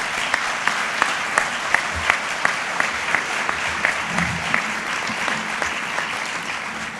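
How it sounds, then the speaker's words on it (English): A lively audience applauds the 13 nominees at the 2016 Fernando Awards, steady clapping from a large crowd filling the room for about seven seconds, with a few sharper claps standing out. "please join me in another round of applause for all of our 13 nominees"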